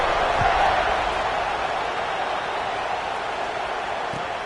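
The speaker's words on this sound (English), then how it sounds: "this crowd is buzzing after that last score" Steady, dense crowd roar fills a college football stadium during an Auburn versus Ole Miss game right after a score, a continuous broadband wash with no distinct claps or chants, heard loud and close throughout.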